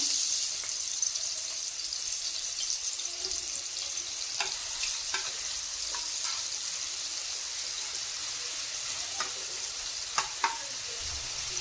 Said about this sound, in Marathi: कढई मध्ये तेल तापाय ठेवलेलं आहे मी. त्याच्यामध्ये आता टाकला हा कांदा.